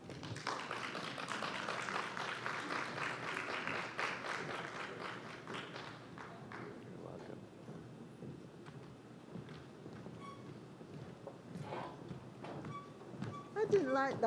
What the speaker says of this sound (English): I didn't like that clapping, it was a bit soft.